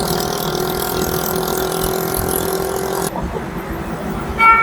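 Car engines idle in a stalled traffic jam on a Pakistani road, a steady low mechanical hum with a continuous whine, which drops in tone partway through before a brief rise as an engine revs near the end.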